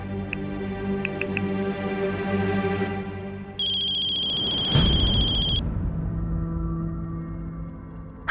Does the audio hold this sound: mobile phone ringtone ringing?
yes